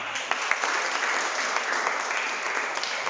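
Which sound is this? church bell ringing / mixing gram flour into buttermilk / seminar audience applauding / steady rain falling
seminar audience applauding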